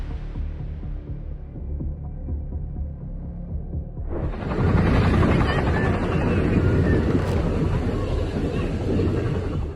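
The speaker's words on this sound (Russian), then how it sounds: "Вертолет, прибывавший на фестиваль Cars and Copters on the Coast, внезапно потерял управление" A helicopter near the beach at Huntington Beach, Southern California, during the Cars and Copters on the Coast festival, its rotor noise rising sharply into a loud, continuous roar mixed with wind buffeting the microphone.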